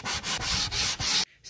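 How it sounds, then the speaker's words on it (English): Wood being hand-sanded for an upper kitchen cabinet in a school bus conversion: close, loud rhythmic back-and-forth rubbing strokes, about six in quick succession, then it stops abruptly. "Just a bit of sanding, and that's all there is to it."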